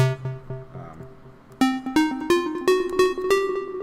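A bluesy minor-key melody leaning on the sharp four or flatted fifth, a run of plucked or struck notes with sharp attacks climbing in pitch, close and unaccompanied by talk.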